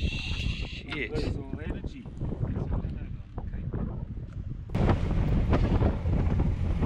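Strong wind buffets the microphone on a fishing boat off the remote Pilbara coast, a steady broadband roar that swells louder near the end, with voices talking over it early on.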